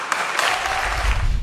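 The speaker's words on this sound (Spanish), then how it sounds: "lo despidieron a Ginés, con aplausos y ovación" A crowd gives a sustained ovation to a departing official, a dense, even patter of clapping that carries across the whole short moment with no break.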